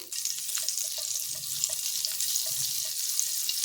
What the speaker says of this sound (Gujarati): તો હવે આપણે એમાં 1 ચમચી જેટલું બટર ઉમેરીશું.